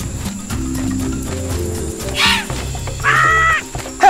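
Birds caw in bursts in the Madagascar 2 video game, two harsh calls standing out over busy game music and effects.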